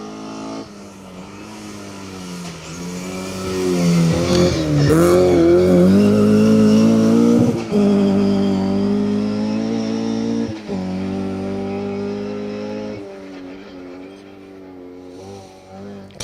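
A Mark II Escort rally car drives a forest stage, its engine revving and rising in pitch as it nears, peaking loud around the middle before fading away, with continuous rasping exhaust and shifting tones.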